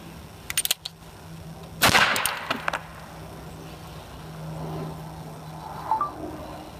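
A Ruger Single Six revolver fires a .22 Golden Bullet round into oobleck, a non-Newtonian fluid: one sharp, loud crack near the middle with a brief tail, preceded by a few smaller clicks and handling noises, then quieter rustling.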